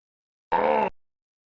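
A 1994 Mercury Cougar gives out a single strange groaning whine that lasts about half a second, then cuts off into silence.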